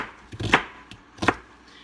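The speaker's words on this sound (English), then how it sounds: "I'm just kind of like doing a rough chop of the onions" A knife roughly chops onions on a board in a home kitchen, two distinct thudding cuts spaced apart, fairly quiet with light room noise between them.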